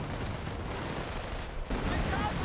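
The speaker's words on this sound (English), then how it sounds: "Calliope rocket barrage from Young in." Calliope rocket barrage in Company of Heroes: a dense, continuous roar of launches and explosions with no clear gaps, loud and steady throughout.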